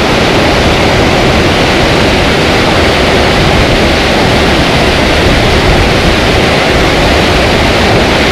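Waterfall and stream pouring over rocks at a national park waterfall in Thailand, a loud, steady broadband rush that holds unchanged and close for the whole stretch, with no voices.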